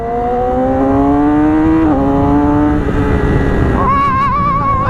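A Yamaha R6 sport motorcycle pulling away under throttle, its loud, close engine note climbing steadily in pitch, briefly dipping at a shift, then rising again.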